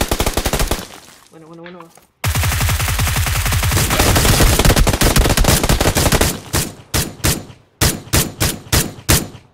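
Loud automatic gunfire in a first-person shooter game rattles in long sustained bursts, then breaks into short spaced volleys, with a brief spoken word between.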